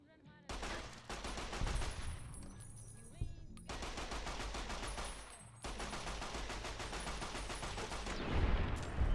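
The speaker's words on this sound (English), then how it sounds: "hunting rifles are pretty serious." Rapid gunfire crackles in Fallout: New Vegas as a hunting rifle and other weapons fire in dense volleys, loud and nearly continuous, with brief pauses, over game background sound.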